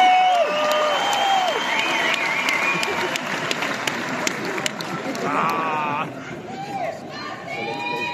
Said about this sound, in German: Die Applaus für Simon Schürger und Sebastian Mannlinger.